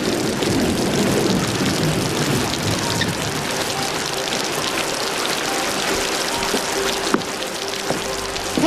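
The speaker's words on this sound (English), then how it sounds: "Thanks, it's pouring out there." Heavy rain pours steadily throughout, a dense, constant hiss of drops drumming on surfaces with no voices.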